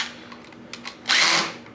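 An electric drill used while wiring an electrical outlet gives a short, loud whir lasting under half a second after faint handling noises, then spins down.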